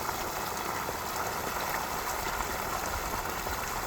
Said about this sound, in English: And you'll see this pipe where it's draining out.